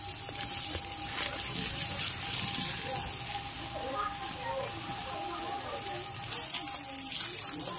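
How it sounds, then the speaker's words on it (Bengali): Water gushes steadily from a submersible pump pipe on a farm, a continuous splashing hiss with a faint whine, while someone talks nearby. "এটা আমার সাবমার্সেল থেকে জলটা আসছে"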